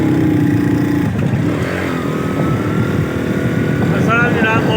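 A motorcycle ridden along a mountain road in Samani, Azad Kashmir, its engine a loud continuous drone that rises and falls with the throttle while someone talks over it.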